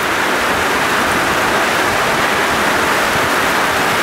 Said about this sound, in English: Oh my goodness, I haven't seen rain like this in a long time.